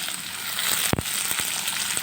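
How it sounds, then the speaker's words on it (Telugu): Chopped curry leaves frying in oil in a pan for egg curry, a steady close sizzling hiss broken by one sharp crackle and a few softer pops. "మొత్తం అయితే వేసేసి బాగా ఫ్రై చేసుకోవాలి."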